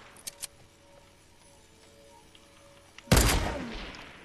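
A minigun opens fire in Fortnite, a sudden loud burst that starts late and trails off, after a few small clicks and quiet game noise.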